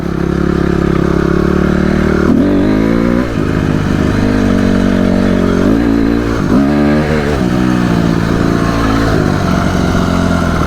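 A Honda motorcycle's engine revs loud and close for the whole stretch, with several throttle blips rising and falling in pitch during first wheelie attempts, no talking.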